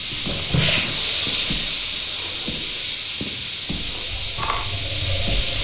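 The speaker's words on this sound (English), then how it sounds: "And that's where there's steam, I think." A steam vent in the video game Lethal Company gives off a constant, loud, airy hiss for several seconds, with scattered faint clicks and thuds beneath it.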